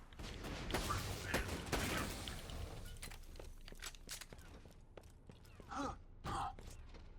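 Gunfire in the video game Borderlands 2 rattles in a dense early burst, then thins into scattered shots and impacts with two sharper blasts near the end, all at moderate level.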